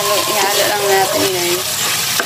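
Pinakbet vegetables are stirred in a frying pan, a continuous loud sizzle with scraping and clattering as the mix is tossed, sounding close up.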